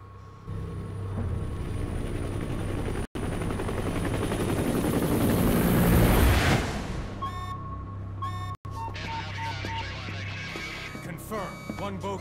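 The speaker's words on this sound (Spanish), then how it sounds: "Alguien viene a por el helicóptero." A helicopter in the video game Metal Gear Solid V: The Phantom Pain flies with a loud, dense rotor thump that swells and then cuts away into quieter game sounds and music.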